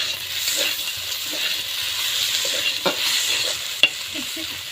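Potatoes, onion stalks and fried lentil dumplings sauté in a pan: a steady close sizzle with soft spatula scrapes throughout and one sharp metallic clank near the end, with no talking.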